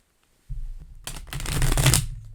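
A deck of cards is shuffled close up after a brief silence. A low rustle leads into a quick, dense riffle of flicking cards that swells and then stops.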